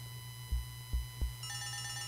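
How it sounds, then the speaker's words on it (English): Telephone ringing in the video game Leisure Suit Larry 1, three soft low thuds followed by an electronic ring tone starting up, faint over a steady synthetic hum. "Oh, phone's ringing."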